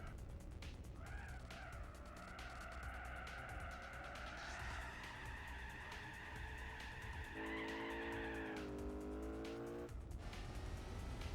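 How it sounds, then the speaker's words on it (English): A race car in a racing video game spins its wheels, a loud sustained tire squeal over a revving engine that rises, wavers and shifts pitch for several seconds before cutting off. "Quit your wheel spinning!"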